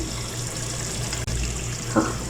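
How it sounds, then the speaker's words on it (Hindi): About a cup of warm water poured into a pot of chicken for murgh cholay, a steady close trickle with soft splashing, then a brief louder splash near the end. "मैं इसमें तकरीबन 1 कप के करीब पानी डाल चुकी।"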